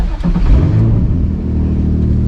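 A BMW Z roadster's engine fires up and revs loudly up close, a deep rumble that swells and then settles into a steady idle, heard with the windows down.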